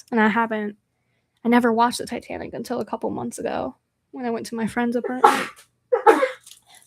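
A single sharp sneeze bursts out near the end of a stretch of someone talking during a live vintage-goods sale, close to the microphone.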